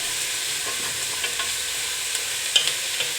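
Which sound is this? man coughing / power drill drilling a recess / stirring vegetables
stirring vegetables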